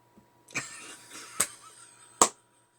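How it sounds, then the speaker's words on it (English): Three short, sharp coughs spaced about a second apart in an otherwise quiet room with a faint low hum. "an innocuous splutter of throat clear"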